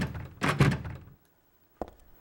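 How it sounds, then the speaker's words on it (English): A door in the survival horror game Silent Hill 3 gives a muffled, scraping thud, then falls silent before a short, sharp knock-like thunk near the end. "I wanted to see if I could get to this door."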